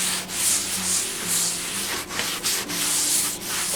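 Beeswax and orange oil feeding wax is rubbed into wood with quick back-and-forth strokes, a close, soft, rhythmic hissing scrub that keeps going without pause.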